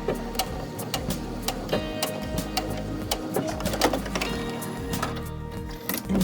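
Home sewing machine running a straight stitch on face mask fabric, with back tacks at each end: a steady, close mechanical whirr of rapid needle ticks with small pauses and shifts in pace.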